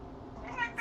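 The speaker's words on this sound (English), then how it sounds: "Sorry, that was my cat." A pet cat lets out brief meowing sounds near the end, a quick soft cry followed by a sharper one, close by in a quiet indoor space with no voices.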